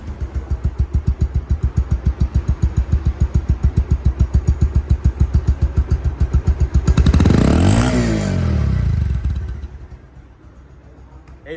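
Close up, a Bajaj Pulsar DD 2021 motorcycle idles with a steady, rapid thumping pulse, then gets one strong rev that rises and falls before it drops back to a quieter idle.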